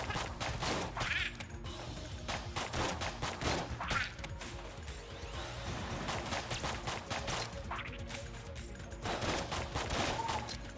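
Gunfire from the bullet-hell video game Enter the Gungeon, rapid bursts of shots and impacts layered with crashing effects, fairly dense and busy throughout with no talk.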